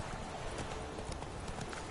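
Horse hooves clip-clop in a steady, quick rhythm through The Witcher: Wild Hunt, a close, continuous patter of footfalls heard alone.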